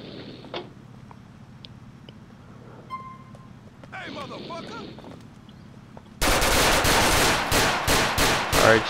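Gunfire in GTA IV: Episodes from Liberty City at a police traffic stop: quiet street ambience with faint radio chatter, then loud, rapid automatic bursts dominate the final few seconds.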